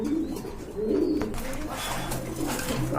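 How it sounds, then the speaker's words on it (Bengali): A pair of Giribaz pigeons coo in low, throaty bursts near the start and around the first second, amid scattered clatter and background noise. "এক জোড়া গিরিবাজ কবুতর মাশাল্লাহ খুবই সুন্দর"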